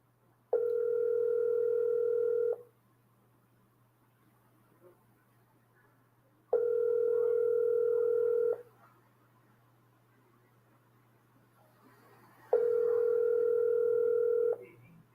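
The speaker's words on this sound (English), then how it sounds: "I've been calling his number." Three long, loud tones, each about two seconds, spaced evenly with silent gaps between them, come from a telephone line calling a number over and over. A steady low hum runs beneath the whole sequence.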